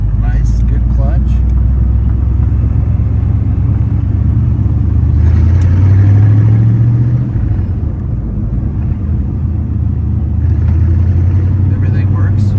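A salt-water flooded 1972 Corvette engine runs with a loud, steady low rumble and a rev that rises and falls partway through, with voices talking over it.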